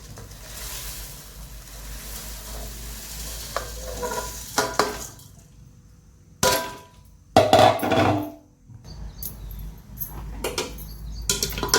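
Thin poha flakes tumble into a hot pan for chivda with the gas off, giving dry rattling and scraping bursts in irregular clusters over a faint background.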